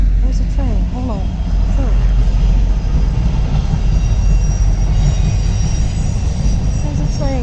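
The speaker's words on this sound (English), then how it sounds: "There's a train going by." A train passes close by, a loud, sustained rumble of rolling wagons with thin metallic squeals rising above it, while a voice carries on nearby.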